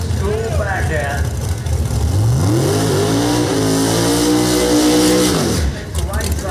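Drag race cars, old school backhand class at a round-one pairing, rev loudly and climb through the gears in a long rising engine pull, with announcer talk running over the roar throughout.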